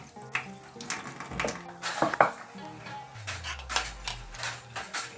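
An earthenware grinding bowl being handled, giving a few sharp clinks and scrapes against a hard surface alongside faint rustling, close by with no talking.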